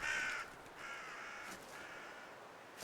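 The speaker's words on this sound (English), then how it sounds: "I like crows." Crows cawing in the cozy witch video game REKA, a few harsh caws spaced over a few seconds, fairly clear against quiet surroundings with no talk.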